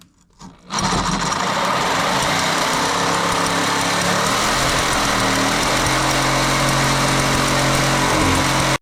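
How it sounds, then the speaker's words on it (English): A reciprocating saw cuts through a fuel pump strap on a 2015-2019 Chevy Tahoe or GMC Yukon, starting abruptly and running as a loud, continuous buzzing drone for about eight seconds, close by with no speech. "We'll probably just sawzall it, hell with it."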